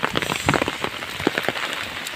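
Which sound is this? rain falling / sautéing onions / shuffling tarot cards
rain falling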